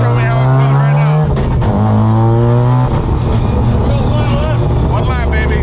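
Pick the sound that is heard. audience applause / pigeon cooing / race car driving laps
race car driving laps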